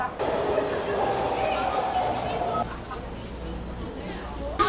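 Inside a São Paulo subway train, a steady rumble of the carriage in motion, with people talking over it.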